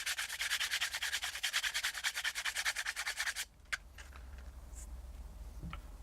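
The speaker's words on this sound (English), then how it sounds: "I'll just use a little bit of sandpaper to clean it up" Sandpaper rubs on wire in fast, even back-and-forth strokes for about three seconds, close and scratchy, then stops, leaving a few faint clicks and handling noises.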